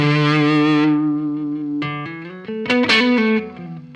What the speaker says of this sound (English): When you roll it back, it's like this really interesting sounding distortion.